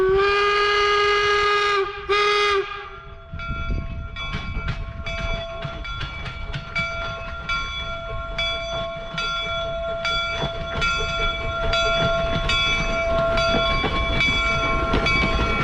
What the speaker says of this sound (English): eventually you get to see that locomotive blow its whistle and haul on off.